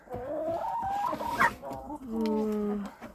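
A Cochin hen clucks and murmurs in a winter poultry yard, with a run of close, fairly loud calls that rise and fall. A short sharper squawk comes in the middle, and a longer drawn-out cluck follows.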